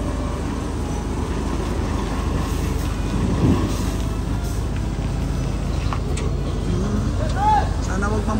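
A large 10-wheeler truck passes on a road in Padre Garcia, Batangas, a low steady heavy rumble over road noise, with people talking.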